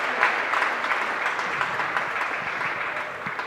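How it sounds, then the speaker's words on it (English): At a junior under-16 boys' football grand final, the outdoor crowd applauds in sustained clapping that holds steady and then slowly fades over a few seconds. "And nice applause as they go off."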